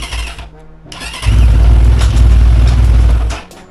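A moped engine, fitted with a PWK 34 carburetor, catches and starts after a light touch, then settles into a loud, close, steady running roar.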